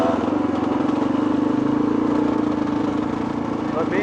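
Two-stroke dirt bike engine running steadily on a trail, a continuous buzzing drone held close and loud throughout, with a voice talking over it.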